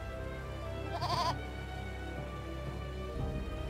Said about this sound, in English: What are goats doing in a place like this?